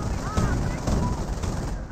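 Artillery fire from a 25 pounder gun in the Company of Heroes strategy game, a dense barrage of explosions and crackling impacts rumbling on continuously, with game effects layered over it.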